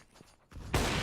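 In a CS:GO pro match on Dust2, a single loud AWP sniper rifle shot cracks out abruptly after a quiet, muffled lead-in, and its heavy report rings on to the end.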